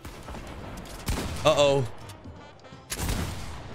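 Flint Knock Pistol shots in the video game Fortnite: two or three heavy, booming blasts spaced a second or so apart, with an excited player talking over the gameplay.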